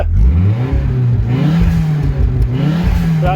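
A car at a car meet revs its engine, the pitch rising and falling in a loud, close, continuous drone with no talk.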